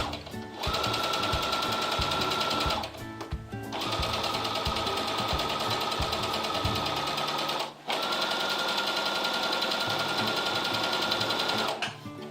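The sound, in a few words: sewing machine stitching an embroidered cosmetic pouch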